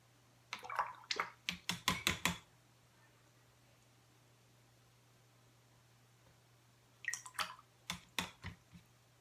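A watercolor paintbrush swishes and taps in a cup of water in two short bursts, separated by a quiet pause with a low steady hum.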